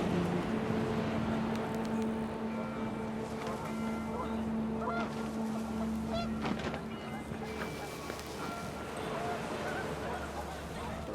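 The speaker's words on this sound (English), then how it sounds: "The wind picked up and panicked geese appeared and quickly went." Panicked geese honk repeatedly in a windy outdoor scene in the video game What Remains of Edith Finch, their calls loud and overlapping against a steady gusty backdrop.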